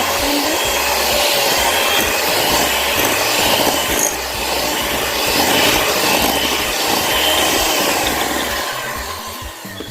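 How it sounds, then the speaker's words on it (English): Continuous whirring and rubbing of an electric mixer creaming butter and sugar in a bowl for a butter cake, steady and fairly loud with no talk. "I'm creaming the butter and the sugar."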